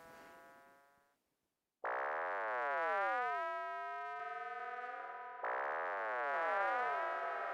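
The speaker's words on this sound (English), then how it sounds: "It's Korg MS-20 sound." A dry Korg MS-20 synthesizer patch gives sweeping, glassy sine-like tones that dive and rise in interlocking pitch bends, split by a brief pause, with no talking.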